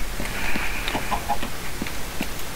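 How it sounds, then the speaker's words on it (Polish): Minecraft chicken giving soft scattered clucks over a low steady game background hum, several short calls spread irregularly, moderately close, with no talking. "Nie, pan Kurczak nie ma sąsiada"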